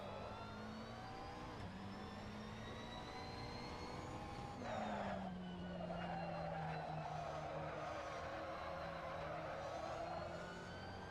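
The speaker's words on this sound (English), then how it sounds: "I'm so tired of this car's engine noise already." A GT3 race car engine in a racing video game, around the Barcelona circuit, drones steadily at a high pitch, falling and rising through gear changes, with a brief surge of tire or engine noise midway; no talking.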